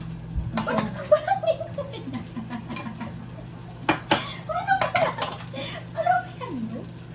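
Pots, pans and cutlery clatter and clink as Celine cooks, with scattered sharp knocks and scraping stirring sounds at close range, brief voices murmuring in the background.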